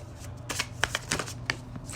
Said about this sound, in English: Hold on, let me get a clear shuffle.